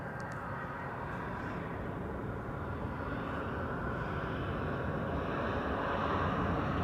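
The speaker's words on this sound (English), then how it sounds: "KLM flight 1656 having arrived from Firenze, Florence" A KLM airliner arriving at Amsterdam Schiphol from Florence, its engines a steady broadband roar that holds level and grows slightly louder toward the end, with wind noise mixed in.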